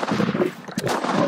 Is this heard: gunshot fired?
yes